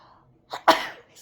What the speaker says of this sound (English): I'm having these sneezing jags lately